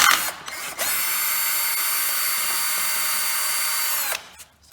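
An ordinary electric drill removes crankcase bolts on a Honda Zoomer scooter, whirring at a steady high pitch for several seconds after a couple of short starting bursts, then winding down, close and loud.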